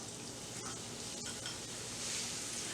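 Purple onion frying in oil in a skillet, a steady close sizzle with light stirring, no voices.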